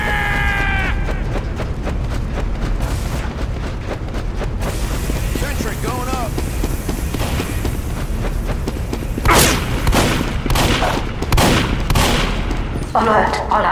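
Team Fortress 2 match with continuous gunfire and explosive booms during a control-point fight, loud layered shots and blasts alongside voices talking over the action.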